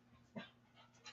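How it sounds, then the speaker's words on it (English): A dog gives a few soft, short whimpering yelps and pants indoors, faint and close, with one slightly stronger yip partway through. "So don't mind if you hear some barking or whatnot."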